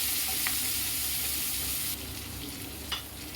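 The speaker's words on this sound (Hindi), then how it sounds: "इसमें अब कटा हुआ प्याज, करी पत्ता, इसे 1-2 सेकंड में प्याज को भून लेती हूँ।" Chopped onion and curry leaves frying in a pan for sambar dal, a steady loud sizzle with brief stirring clinks, easing slightly partway through.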